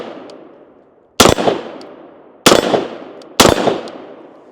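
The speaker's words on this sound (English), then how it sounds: "if I want to shoot it here" Three loud, sharp gunshots from a Sig M400 SDI Series X rifle fired one-handed, irregularly spaced, each with a long outdoor echo trailing off.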